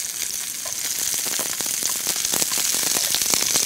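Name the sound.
green onions grilling in an oil pan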